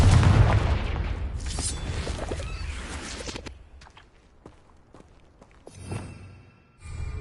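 A Confringo fire spell bursts loudly in Hogwarts Legacy, opening with a booming blast that fades over a few seconds, followed by scattered sharp impacts and crackles, then a second swelling burst near the end.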